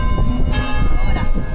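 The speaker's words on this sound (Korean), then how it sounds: "때마침 울려 퍼지는 종소리가 이 유럽 감성을 한층 더 더해지는군요" A church bell rings in a Spanish city square, its bright, resonant tones sounding close and loud over a busy mix of street noise and chatter.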